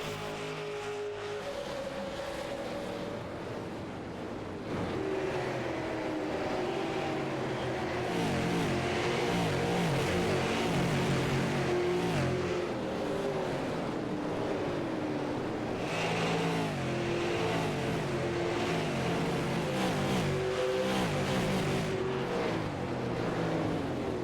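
Super late model race cars at Richmond in a racing video game, a dense and continuous roar of several engines revving hard together as the pack exits a turn, loud and with no voices.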